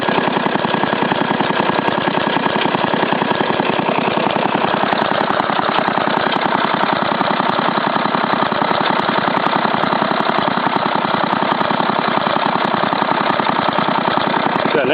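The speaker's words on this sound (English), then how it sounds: "A nice smooth idle, and there's no problems now." An Intek 23 hp V-twin engine fitted with a new carburetor idles smoothly and loudly up close, a steady, rapid even chugging that holds constant with no speech.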